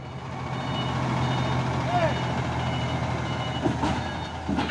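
A trailer truck reverses with a steady low engine rumble and a faint, regularly repeating reversing beep in the background.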